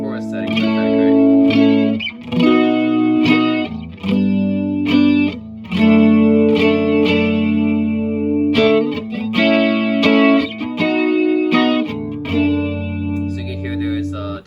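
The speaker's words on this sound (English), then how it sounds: "Definitely a chorus effect" An electric guitar plays chords and single notes through a BBE Windowpane pedal set to chorus mode 1, sounding loud and close with a subtle shimmering chorus, phrases separated by short pauses.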